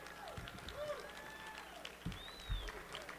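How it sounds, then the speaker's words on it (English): Rotary Club centennial audience giving a round of applause, soft scattered clapping mixed with rising whistles and a few thumps, heard at a low level throughout. "another big round of applause for Sean and his guys"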